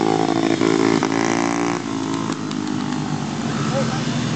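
Kids' mini motorcycles race on a speedway track. Their engines whine loudly and steadily and shift pitch as the riders pass, with people talking over the noise.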